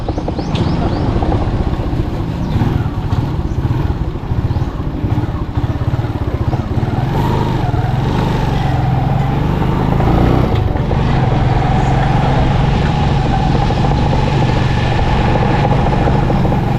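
A motorcycle engine runs steadily throughout a ride to fetch water on a sloping route, a continuous loud rumbling drone close up with no clear pauses.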